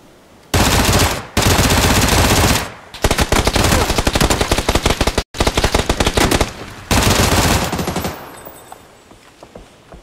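Sustained bursts of automatic gunfire in a multiplayer shooter video game, loud and close, in several long rapid-fire volleys separated by brief pauses, with no talk over them.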